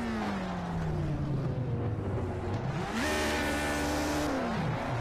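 A 1960s Formula One car in the racing game Project CARS revs hard, its engine pitch climbing and dropping through gear changes, loud and close throughout, with a brief tire squeal.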